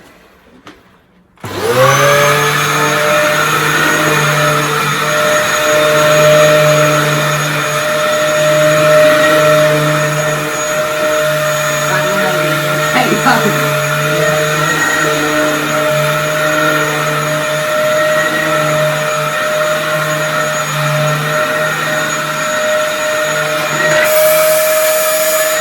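A repaired Dyson DC07 vacuum cleaner switches on after a short quiet moment and runs with a steady, loud motor whine and hum for the rest of the clip, with no talk over it.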